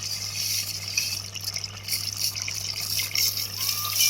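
Washed rice poured into a pot for chicken biryani, giving a steady wet rushing, pattering sound that runs unbroken for about four seconds at moderate level, with no talking.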